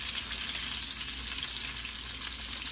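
Food frying in a moderately hot pan, a continuous crackling sizzle at moderate loudness with no voices.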